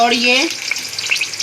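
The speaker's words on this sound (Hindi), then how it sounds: "टमाटर, सब्ज़ मिर्च, ये हम इसके अंदर डाल के अब इसको फ्राई करेंगे।" Tomatoes and green chillies frying in a pan for vegetable fried rice, a brief bright sizzle that starts under a short spoken phrase and then crackles on alone.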